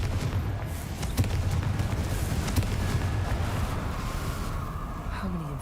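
A Confringo fire-spell blast in Hogwarts Legacy, a dense, roaring rumble that holds steady for several seconds, with a few sharper cracks rising out of the sustained wash.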